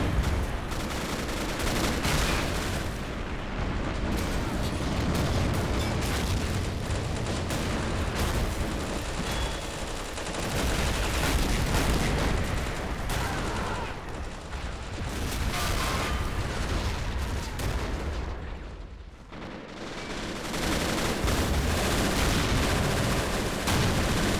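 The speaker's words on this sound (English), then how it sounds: "Mortars firing, infantry charging." Large Men of War battle in the RobZ Realism Mod, a dense, continuous barrage of mortar blasts, rumbling explosions and crackling rifle and machine-gun fire, loud and unbroken throughout with no talk over it.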